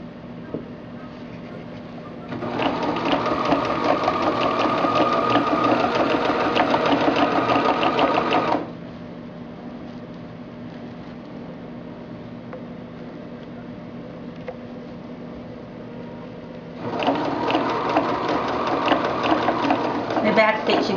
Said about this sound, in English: I'm going to back stitch just a little bit here first of all, and then just go forward until you get to the end